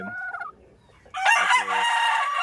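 A Keith Cargill White gamefowl rooster crows loudly and close by, a single full cock-a-doodle-doo with harsh rasping tones, preceded by softer clucking and a brief quiet pause.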